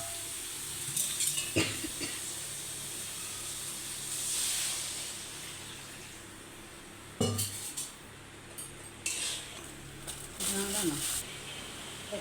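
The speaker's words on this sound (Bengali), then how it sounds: "এবারে আমি জল ফেলে দেবো" Water hits spice paste frying in a pan with loud bursts of hiss, separated by clinks and scrapes of stirring in the pan. A voice speaks at times.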